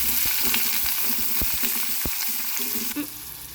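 Chopped onions sizzling loudly in a hot oil tempering with dried chillies, with a spoon scraping and stirring in irregular strokes, close up and without voices.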